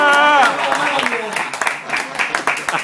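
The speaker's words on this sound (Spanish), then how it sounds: "Un aplauso para meñique." Audience applause at a salsa and Latin jazz festival talk in Barcelona, a dense crackle of many hands clapping under and after a voice, with crowd noise and further speech over it.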